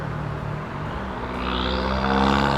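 A car passes on a road, a broad engine and tyre whoosh that swells louder toward the end as the vehicle approaches and goes by, with no talking.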